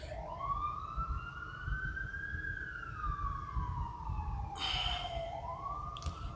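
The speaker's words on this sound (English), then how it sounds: "That's an ambulance this time, not a police car. I see it going past." An ambulance siren passes outside, a rising and falling wail that sweeps up and down in long pitch glides, heard at a moderate distance over low traffic rumble and growing briefly brighter as it goes by.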